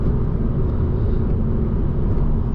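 Peugeot RCZ cruising on the highway in sixth gear, a steady loud low engine drone and road rumble with no change in level, heard from inside the car.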